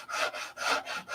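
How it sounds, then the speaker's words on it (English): Bare hand sanding wood with no block, three long rasping strokes in a steady back-and-forth rhythm, close and clear. "Open hand sanding like I'm doing"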